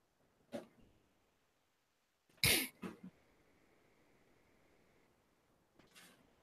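A few sharp, isolated coughs break an otherwise quiet room, one louder burst in the middle and fainter ones before and after.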